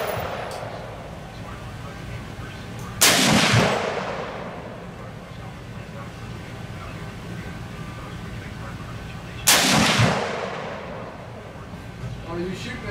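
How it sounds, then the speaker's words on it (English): Two sharp rifle shots fired through an ATN X-Sight II smart scope, spaced about six seconds apart, each loud and cracking with a short decaying echo over quiet outdoor background. "So I'm going to take a couple of shots so you guys can actually see."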